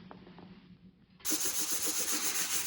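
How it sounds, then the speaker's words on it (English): Sandpaper rubs back and forth across the mating surface of an engine block in steady, rhythmic strokes, starting abruptly after a quieter moment and continuing loud and close. "So it looks like we need to sand it some more."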